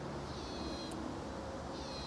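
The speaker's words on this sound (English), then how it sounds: "He hears a bird." A bird calls outdoors, sounding like an owl's hoot, with faint high tones standing out briefly over steady broadband background noise and no talking.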